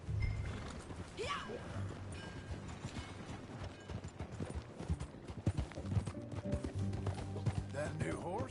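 Horse hooves clip-clop in Red Dead Redemption 2, a steady trotting rhythm under a busy game soundscape with mechanical creaks and rustling, while characters talk over parts of it.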